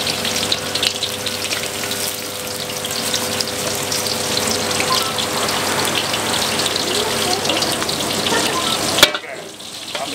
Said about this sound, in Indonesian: setelah minyak ini kita rasa cukup panas, masukin dulu bawang bombaynya ya.